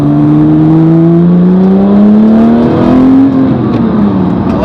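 A 2010 Porsche GT3 engine revs loud and close, its tone climbing steadily then dropping, with metallic rattles riding over the strained mechanical roar.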